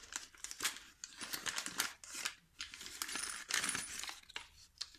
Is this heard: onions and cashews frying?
no